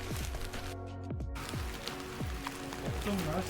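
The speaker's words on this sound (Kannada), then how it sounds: "ಮಳೆ ಬೀಳ್ತಾ ಇದೆ" Steady rain patters nearby in a constant wash of drops during a hike at Kotor Fortress, Montenegro, while a person talks over it.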